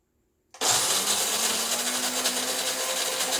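An electric coffee grinder, set slightly coarser than medium, starts abruptly after a brief silence and grinds coffee beans for cold brew in a loud, dense whir that stays steady and close.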